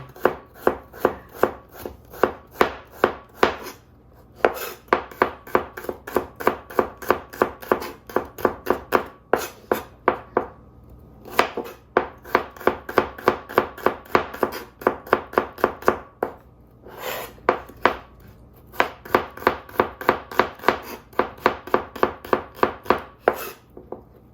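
Steady rapid knife chopping of shallots on a cutting board, quick even taps in long runs with a few short pauses, close and crisp with no talking.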